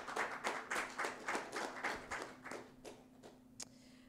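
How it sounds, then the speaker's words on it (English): Audience applause at a Web3 privacy panel during an NFT conference in New York: a small group claps in steady rhythm, clear and near, then thins out to a few scattered claps before fading. "Give a round of applause."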